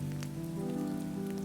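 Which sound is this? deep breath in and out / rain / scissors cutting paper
rain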